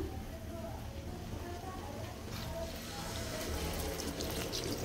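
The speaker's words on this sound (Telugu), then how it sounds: "ఇప్పుడైతే నేను వాటర్ అయితే యాడ్ చేస్తున్నాను." Water poured into a pan of mutton lungs fry, a steady close rushing splash that grows slightly louder toward the end, with someone talking over it.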